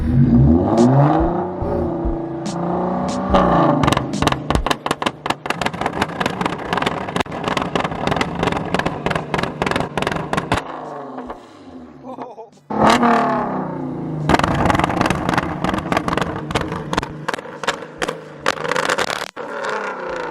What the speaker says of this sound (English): here's the Genesis with the flame. Hit it, Christian.